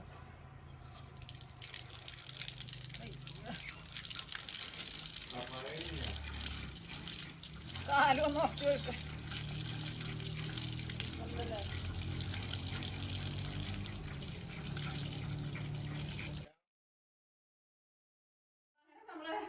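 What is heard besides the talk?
water running from a tap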